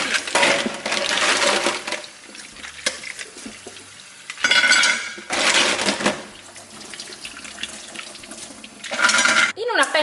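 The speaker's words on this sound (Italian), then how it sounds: "Le sciacquiamo adesso sotto acqua corrente" Running tap water splashes loudly in bursts, with mussel shells rattling and clattering together as they are rinsed under the stream.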